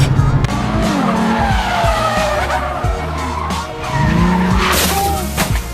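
A 2018 Ford Mustang GT with a V8 slides with its tires skidding and squealing loudly and continuously close by, with engine roar underneath, and the squeal surges again near the end.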